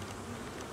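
Several bees buzz close up in a steady, continuous drone while being hand fed, with no talk over the sound.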